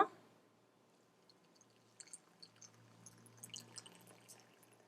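Boiled home-remedy water for bloating and acidity, reduced to about half a glass, is strained and poured into a glass, giving faint, scattered trickles and drips over a quiet background.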